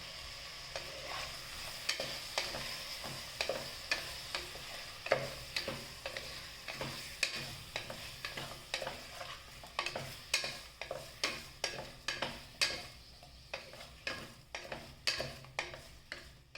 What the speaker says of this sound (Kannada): ಚಿಕನ್ನ ಎಣ್ಣೆಯಲ್ಲಿ ಸ್ವಲ್ಪ ಫ್ರೈ ಮಾಡಿದ ಮೇಲೆ ಕಟ್ ಮಾಡಿ ಇಟ್ಕೊಂಡಿರುವಂತಹ 1 ಈರುಳ್ಳಿ, 1 ಟೊಮೆಟೊ ಹಾಕಿ ಹೇಗೆ ನಾವು ಚೆನ್ನಾಗಿ ಮಿಕ್ಸ್ ಮಾಡಬೇಕು